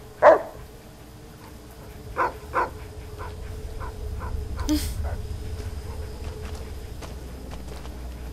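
A dog barks in the Fallout: New Vegas game world: one sharp bark up front, then a few softer distant barks spread out over a low ambient hum, with brief footstep-like sounds.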